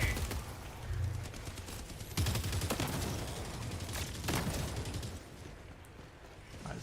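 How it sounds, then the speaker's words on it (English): Video game shootout with steady bursts of gunfire and rattling automatic fire that swell and fade across several seconds, fairly distant and moderate, with no talking. "you guys are just, you know, shooting"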